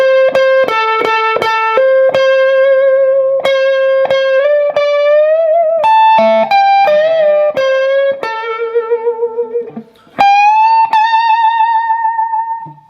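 A lone electric guitar plays the second solo of a song, loud and clear. Picked and bent notes ring out with distortion and effects, and there is a brief pause near the end before a final sustained note.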